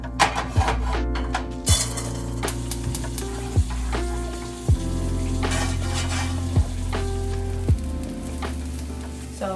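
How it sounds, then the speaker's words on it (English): Mushrooms frying in a pan give off a steady loud sizzle, broken by repeated clinks and scrapes of a utensil stirring against the pan. No one speaks. "So while the mushrooms cook"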